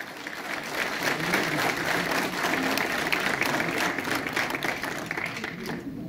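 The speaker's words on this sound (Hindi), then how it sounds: "Let us put a hand together for all the dignitaries on the DISE." Sustained applause from a large crowd honouring the dignitaries on the dais at the inauguration of the Himalayan Film Festival, a dense, steady roar of clapping that stays loud for the full six seconds with no talk over it.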